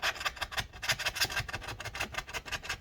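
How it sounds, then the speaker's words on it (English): Scraping away old battery adhesive inside a 15-inch Early 2013 MacBook Pro A1398, a rapid series of close, rasping strokes in a steady back-and-forth rhythm, with no talking. "Let's go ahead now and start scraping this stuff up."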